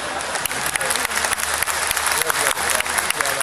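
A crowd at a mushaira poetry recital in Bangalore claps loudly and continuously, a dense, close wash of hands with sharper individual claps popping through.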